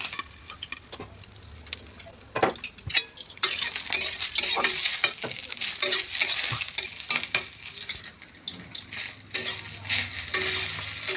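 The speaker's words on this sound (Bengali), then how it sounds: "পাতাগুলো ভালো করে ভেজে নিতে হবে।" Boiled cauliflower leaves fry in a pan while being stirred, giving a steady sizzle broken by repeated scraping and clinking of a utensil against the pan, close and fairly loud throughout.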